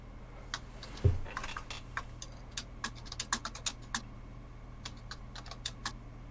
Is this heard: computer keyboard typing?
yes